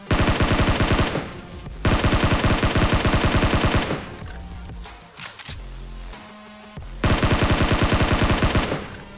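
Gunfire in the mobile battle royale game PUBG Mobile, loud rapid automatic bursts of close shots in long sustained strings, broken by a short lull with scattered single shots and movement before firing resumes.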